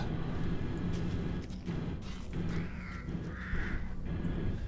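Crows cawing in Resident Evil Village, a few harsh calls rising over a steady low game ambience, moderately near.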